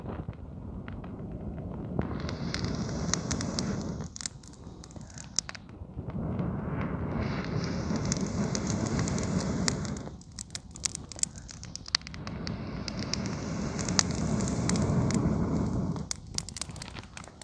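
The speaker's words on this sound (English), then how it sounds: "We've got an excellent fire." A freshly lit campfire burns close by, crackling and popping over a roaring rush that swells and eases in long surges, with short quieter gaps between them.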